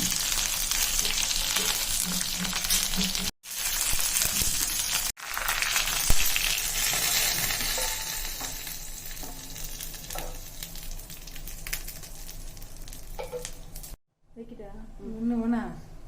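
Mustard seeds, urad dal, dried red chillies and curry leaves sizzle steadily in hot oil for a South Indian tempering, a continuous close crackle with faint stirring and a brief pause near the end.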